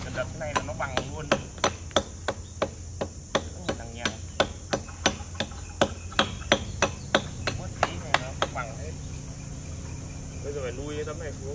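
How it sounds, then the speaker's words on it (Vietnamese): A hammer strikes a metal drain cover frame on a building site, about twenty sharp, evenly spaced ringing blows that stop near eight seconds, followed by faint background noise. "để lấy cái búa nữa. Đấy, cần đập cái này là nó bằng luôn."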